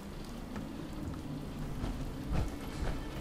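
Steady rain falls in the video game Fallout 4, a dense, even hiss of drops with a few heavier patters and a soft low rumble, with no one talking.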